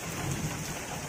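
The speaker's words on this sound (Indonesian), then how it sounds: "Hujan." Heavy rain pours steadily beside a rice field during an outdoor fishing outing, with a low rumble of thunder rolling underneath the hiss; no voices.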